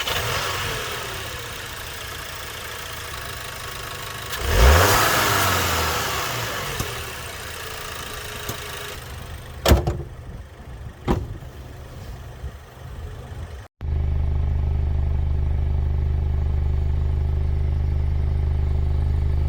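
A Volkswagen Arteon Shooting Brake's 2.0 TSI four-cylinder engine revs hard, its exhaust rising and falling with a few sharp blips, then settles into a steady, low idle rumble close by.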